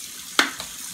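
A kitchen tap turned on to rinse out a coffee maker's filter, giving a brief, soft splash of running water that rises suddenly and fades within a moment in an otherwise quiet room.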